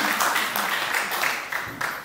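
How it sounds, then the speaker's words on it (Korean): Crowd applause at a Korean political talk on energy policy and blackout, a short burst of many hands clapping with uneven peaks, moderately loud. "확신하면 박수 한번 더 쳐드리죠."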